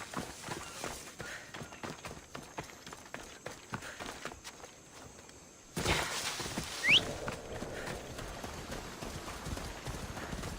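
Horse hooves clip-clopping in Assassin's Creed Odyssey, a steady run of hoofbeats that grows louder and denser about halfway through as the horse breaks into a gallop, with a brief high whistle-like tone over it.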